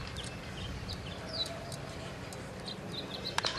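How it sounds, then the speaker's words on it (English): Birds chirp and tweet faintly in short bursts over steady crowd murmur and ambient noise at a spring training baseball game between Cleveland and the Dodgers, with one sharper chirp near the end. "I'm sure you hear the birds"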